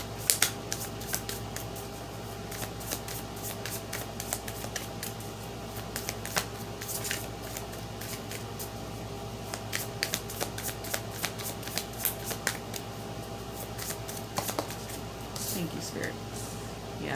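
Tarot cards being shuffled up close, a long run of quick riffling flutters and soft slaps in irregular bursts, with a voice talking faintly underneath at times.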